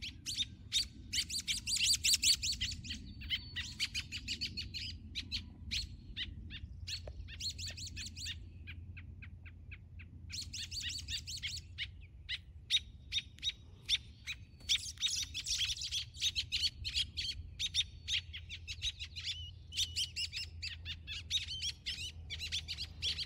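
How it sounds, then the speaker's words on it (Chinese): A pair of parent birds call anxiously without pause, a dense run of sharp high chirps and squeaks repeating in quick bursts, close and fairly loud over a low steady background hum. "更焦急的鸟爸爸和鸟妈妈在不停的叫呢。"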